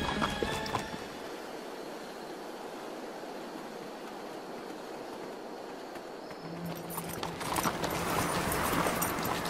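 Horse hooves clip-clop at a steady pace over a rushing, wind-blown background, with a low hum entering near the end as the scene shifts, in an animated series.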